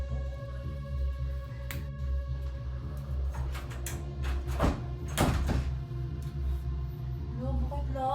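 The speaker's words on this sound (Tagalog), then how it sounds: "Bakit lock yung pinto?" A locked door being tried in a house: a series of thumps and rattles builds in the middle, with knocking jolts over a steady background hum, followed by brief voiced sounds near the end.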